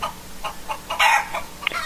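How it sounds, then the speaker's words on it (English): Chickens on a farm clucking in a quick series of short, bright calls, with one louder burst partway through, close and fairly clear. "These chickens are clucking"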